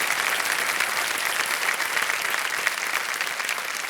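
Dense applause fills the Kaun Banega Crorepati television studio as the audience keeps clapping at a steady level, a close, crowded patter that holds evenly for several seconds.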